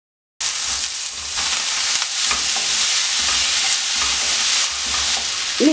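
Breadfruit pieces stirred into onions and chillies frying in a pan, a continuous sizzle with repeated scraping stir strokes, close and fairly loud, no voices.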